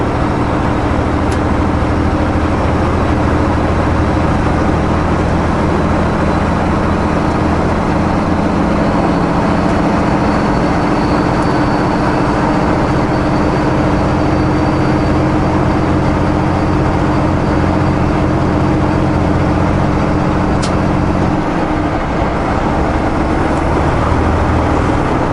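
Heavy truck engine driving on a slippery, snowy road in the Okanagan Valley, with a steady low drone and road rumble throughout, loud and continuous with no talk.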